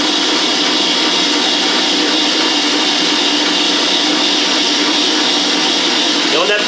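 An electric mixer whips vanilla chantilly cream with a loud, steady, unbroken motor whir and beater churn that runs close up throughout.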